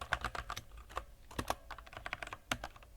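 Fingers type on a computer keyboard in quick, irregular bursts of close, crisp key clicks with short pauses between them.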